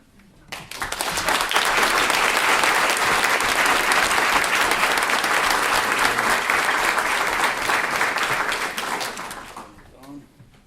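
A large audience claps loudly and steadily for about eight seconds to welcome lecturer Ilan Pappé at a talk, rising quickly, holding a dense sustained roar, then tapering off near the end.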